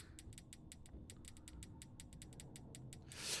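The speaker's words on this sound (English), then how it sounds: "Behold the great Flinzanzo as he spins these screws with the power of his mind bullets." Screws spinning in FNAF: Sister Location, a quick run of faint, evenly spaced metallic ticks like a ratchet turning, over a low background rumble, ending in a brief brighter hiss.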